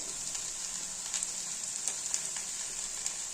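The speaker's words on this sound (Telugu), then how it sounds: "లేడీస్ ఫింగర్స్ మీన్స్ బెండకాయ just fry in the oil చక్కగా నూనెలో వేపండి" Okra frying in oil gives a continuous, even sizzle with faint crackles and pops throughout, close and moderately quiet.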